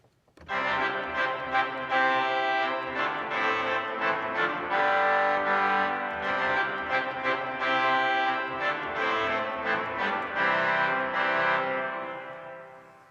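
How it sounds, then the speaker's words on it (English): Two powerful pipe organ reed stops in a side chamber of the Symphony Hall organ sustain a loud, brassy chord for several seconds, then fade, with a reverberant room sound and no talking. "There are 2 reed stops, very powerful reed stops in the chamber"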